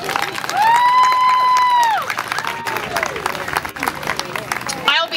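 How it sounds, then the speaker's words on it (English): An audience at a fundraiser applauds with cheering, as a loud sustained whoop rises over the clapping before the crowd settles into scattered claps and murmured chatter. "So please give her a round of applause."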